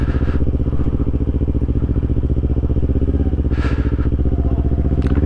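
A motorcycle engine runs steadily while riding through traffic in Japan, a loud, close, rhythmic throbbing putter that holds throughout, with a few brief higher hisses from passing traffic.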